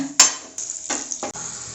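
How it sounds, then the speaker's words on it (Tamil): Cashews and raisins frying in ghee, a soft crackling sizzle broken by a few short stirring scrapes and clinks of a spoon in the pan, close and alone. "இப்போ கொஞ்சமாக நெய் விட்டு முந்திரி திராட்சை வறுத்து எடுத்துக்கலாங்க"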